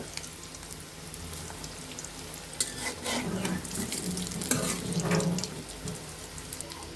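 Fish fingers made from Bombay duck fry in oil over medium-low heat, a steady broadband sizzle with stirring and scraping clatter that swells midway through, a faint background hum beneath and no voices.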